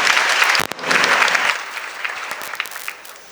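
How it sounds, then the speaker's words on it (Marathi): A crowd applauds at a book launch and panel event in Pune, a loud burst of clapping that dips briefly, swells again, then thins out into scattered claps as it fades. "त्यांच्यासाठी टाळ्या आपण सगळ्याजण वाजवू"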